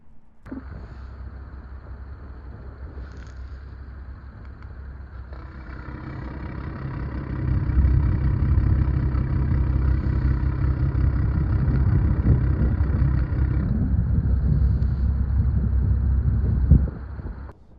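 A BMW F10 535i with a valvetronic exhaust idles with a low, steady rumble that swells into a fuller, louder drone partway through, most likely as the exhaust valves open, then holds before it cuts off.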